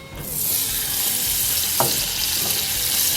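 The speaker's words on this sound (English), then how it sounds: "you're going to take your butter and just place that into your saucepan" Butter melts in a saucepan for buffalo wing sauce, a steady close sizzle and crackle that starts almost at once and holds, with a faint utensil tap partway through.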